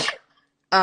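A person sneezes sharply once, then after a brief pause a voice speaks close by.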